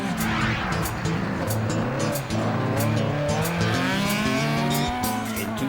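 An Audi Quattro rally car tears along a rally stage, its engine roaring loud and close as it revs up and down through gear changes, with tyres scrabbling over the surface throughout.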